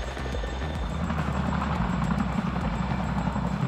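A CH-47 Chinook heavy-lift military helicopter drones with a deep, rhythmic rotor thump and steady engine whine, loud and continuous with no voices.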